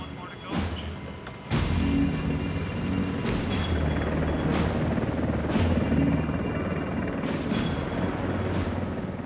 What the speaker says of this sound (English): Thibault must keep the helicopter at a constant equal distance from the ship.